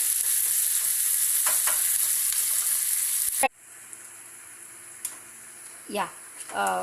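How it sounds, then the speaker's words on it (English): Salted food fries in a pan over a medium flame, a loud, steady sizzle that cuts off abruptly midway, followed by quiet kitchen sounds and brief bursts of speech. "To make it crispy, we'll add salt, fry until golden brown."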